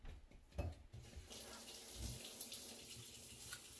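Water runs from a kitchen tap as a wooden spatula is rinsed out, a steady hissing splash lasting throughout with a few clunks of handling near the start.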